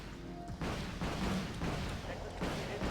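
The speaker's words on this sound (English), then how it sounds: "It's just that we're firing missiles pretty uncoordinated." Ship firing missiles in Wargame Red Dragon, several broad booming launch bursts in irregular succession, loud and dense, layered over game noise and talk.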